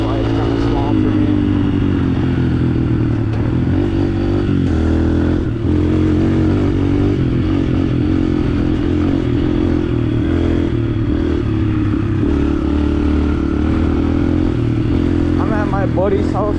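A 125cc four-stroke dirt bike with lowered suspension rides through a gravel pit, its engine buzzing loud and close as it revs and changes pitch, with gravel clatter and wind; a rider talks over it.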